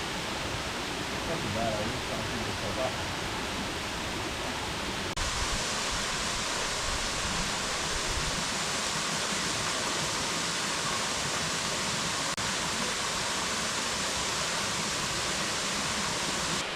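A waterfall roars as a continuous broad rushing wash of falling water, steady and fairly close, with faint voices underneath at times.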